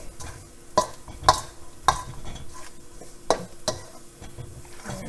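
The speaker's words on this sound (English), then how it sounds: "I'll go ahead and mix the dry ingredients together somewhat." Dry cornbread ingredients being mixed in a bowl, a few distinct scraping knocks of the utensil against the bowl standing out from a soft, steady stirring rustle, close and moderately quiet with no talk.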